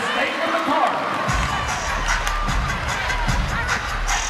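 A basketball arena crowd at a women's college game, Louisville against Ohio State, roars in a steady, dense wash of cheering and shouting that fills the whole stretch without pause.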